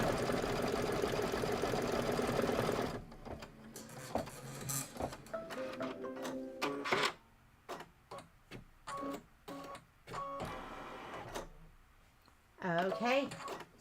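An embroidery machine stitches a satin outline, a steady mechanical whir and rapid clatter up front, then stopping and restarting in short bursts while someone talks over it.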